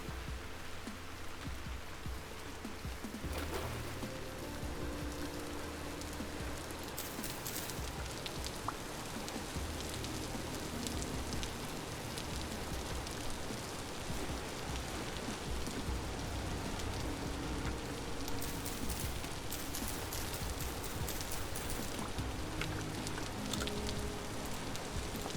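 Steady rain falls in the video game Vintage Story, a continuous dense hiss of drops on surfaces that holds evenly throughout with no voices.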